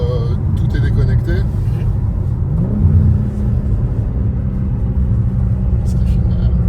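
A BMW M3 G80 with its driving aids switched off accelerates with wheelspin, giving a deep, continuous engine rumble that swells slightly midway, while people talk over it.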